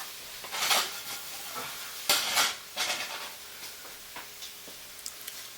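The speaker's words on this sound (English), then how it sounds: "I'm going to stir my green beans." Green beans stirred in a pan with a few sharp scraping, clattering utensil strokes over a faint sizzle, close and moderately quiet, with sparse ticks between strokes.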